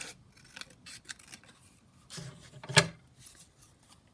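Scissors trimming the torn edge of a sheet of paper for a junk journal, a series of quiet snips and paper rustles close by, ending in one louder crisp cut.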